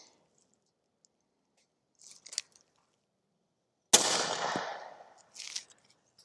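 A rifle fitted with a TiTrex 360Ti suppressor fires 220 grain subsonic ammo: one sharp, muffled report with a roughly second-long fading tail, with faint clicks before it and a brief burst of noise afterward.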